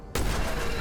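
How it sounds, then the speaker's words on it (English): Hand cannon firing in the dark fantasy shooter Witchfire: a sudden heavy blast after a brief quiet moment, then a loud, booming, sustained roar of gunfire and impact rumble close up. "I always love the feel of how the hand cannon just kind of like hits things"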